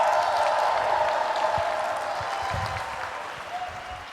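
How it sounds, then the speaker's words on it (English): A live convention-stage audience at a Magic: The Gathering event claps loudly and steadily with some cheering, the sustained crowd noise fading slightly toward the end, with a brief whistle-like tone near the close. "I need you guys to really clap loud to overcome Matthew Tabak's humming and bring him back on stage"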